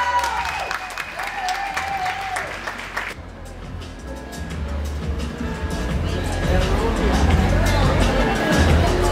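Audience applause at a beauty pageant crowning in Ensenada, a loud crowd clapping with cheering and babble that swells and continues steadily, mixed with talk over the sound system at the start.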